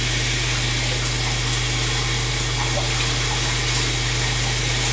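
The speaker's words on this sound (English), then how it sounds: "drink something in the shower, with the water running" A home shower runs steadily, a constant close hiss of spraying water that does not change for the whole stretch, with no one speaking.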